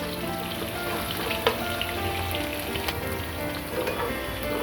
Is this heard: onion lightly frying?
yes